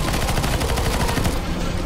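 Rapid automatic gunfire from the video game CS:GO on a zombie escape map, a dense, loud stream of shots rattling without pause and no voices over it.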